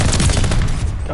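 Rapid gunfire crackles in a competitive shooter match during a DGL playoff game, a dense loud burst of shots running through the whole moment with faint low rumble beneath.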